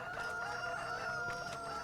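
Chickens in the farm game Farming Simulator 25 cluck and squawk in a busy, continuous flock chorus, fairly quiet and with no voices over it.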